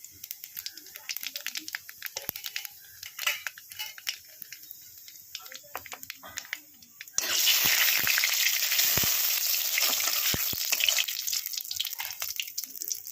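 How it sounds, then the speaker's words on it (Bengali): Black cumin (nigella) seeds drop into hot oil in a wok and set off a sudden loud, steady sizzle that runs for several seconds, following quieter kitchen clatter. "তেল গরম হয়ে গেছে। এবার কালো জিরাটা দিয়ে দেবো।"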